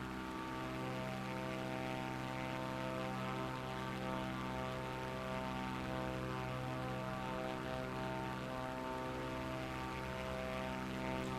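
Aircraft engine droning on a night flight in Microsoft Flight Simulator 2024, a steady, even propeller-like hum that holds at a constant level, with no voices.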